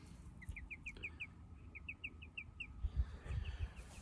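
Several birds cluck and chirp in short bursts, with low rustling and scattered thumps underneath; no talking.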